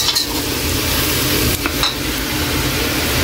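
Dinuguan, a Visayan-style pork blood stew, sizzles loudly in a pan while being sautéed, with a steady close hiss and occasional scrapes of stirring.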